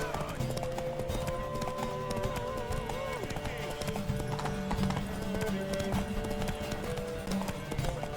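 Rapid galloping hoofbeats of a horse race in The Witcher 3: Wild Hunt pound steadily under game music and occasional voices, with a brief whinny-like flourish.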